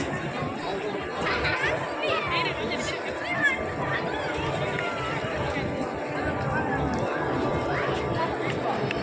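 A dense crowd chatters steadily at the Gateway of India in Mumbai, many voices blending into a continuous hubbub close by with no single voice standing out.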